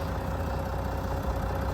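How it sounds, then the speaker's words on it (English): A tractor engine idles steadily on a farm near cattle, a constant low rumble that stays close and even with no voices. "It's a tractor."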